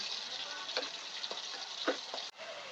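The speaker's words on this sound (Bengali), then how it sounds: "কড়াইতে তেল দিয়ে ওর মধ্যে আলুগুলোকে আমরা লাল লাল করে ভেজে নেব" Potatoes with turmeric and salt fry in oil in a wok, giving a steady close hiss and sizzle broken by a few soft clicks of stirring and one sharp knock near the end.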